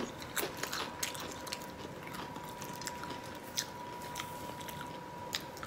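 Close crunching and chewing of shrimp nachos made with sweet spicy chili Doritos and sour cream, with sharp crisp bites scattered irregularly over a steady low background and no talking.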